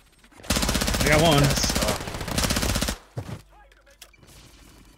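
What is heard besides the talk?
gunfire in the video game Call of Duty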